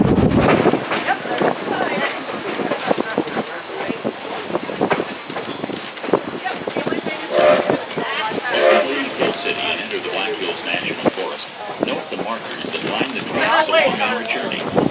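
The 1880 Train rolls over a road crossing, its wheels rumbling and squealing while a high whistle sounds in several drawn-out blasts, with voices talking underneath.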